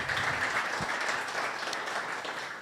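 A crowd applauds steadily, a dense wash of clapping that holds throughout and fades slightly at the end.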